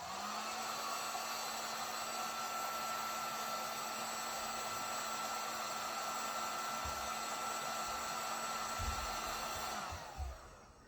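A heat gun blows steadily on the sides of a candle being marbled, a loud continuous whoosh with a droning tone that runs unbroken for about ten seconds before cutting off and winding down.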